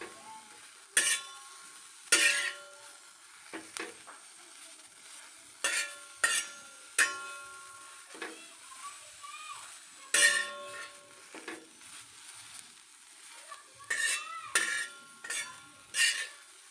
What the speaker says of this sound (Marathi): आता या मंदाचेवरती आपण ही घोळ भाजी अशी भाजून घ्यायची